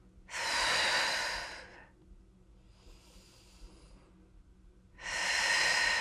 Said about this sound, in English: Exhaling to lift the hips, inhaling to lower